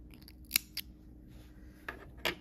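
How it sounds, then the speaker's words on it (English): Scissors snip excess crochet yarn for a headband in a few quick, close, crisp cuts, two early and two near the end, in a quiet room. "And cut the excess."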